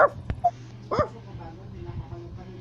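Papillons and Basset Hounds bark and yip in short close bursts, a few sharp yelps and a whimper early on, then quieter low sounds with a person talking underneath.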